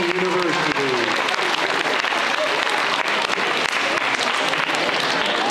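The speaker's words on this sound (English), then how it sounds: "All right, one more round of applause." An audience at a high school signing-day ceremony breaks into a round of applause, dense and continuous crowd clapping that stays loud and close for the whole stretch, with a brief hint of voices near the start.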